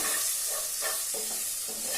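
Onion, tomato and sambar powder sizzle steadily in a hot pan while being stirred, with soft scraping strokes over a continuous frying hiss.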